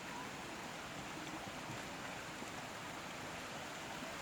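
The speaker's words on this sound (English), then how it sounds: "and that's the waterfall?" Waterfall on a hiking trail, a steady, broadband rushing hiss of falling water heard from some distance, constant and fairly quiet with no voices over it.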